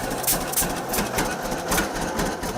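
A classic John Deere A tractor engine runs with a steady, rhythmic chugging beat, loud and close, pulsing at an even pace with no talk over it.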